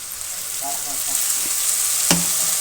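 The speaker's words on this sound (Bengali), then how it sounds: "পেঁয়াজগুলো এই পর্যায়ে ভাজা হয়ে গেছে তো এখন আমি দিয়ে দেবো পেস্ট করে রাখা সমস্ত মশলায়" Onions and spice paste fry in hot oil, making a continuous loud sizzle, with a sharp clink of utensil against pan near the end, and no one speaks.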